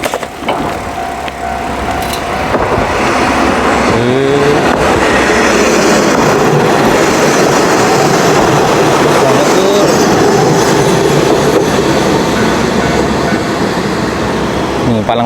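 A train rumbles past close by at a level crossing in rural Japan, a loud sustained roar with rhythmic rattling of wheels on rails, preceded by quieter ambient noise and a brief signal tone.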